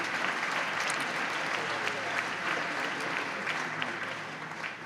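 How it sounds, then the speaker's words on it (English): Sustained crowd applause at a Central European Forum gathering, even and full throughout, with faint voices mixed beneath the clapping before it begins to thin near the end. "they also deserve to be applauded"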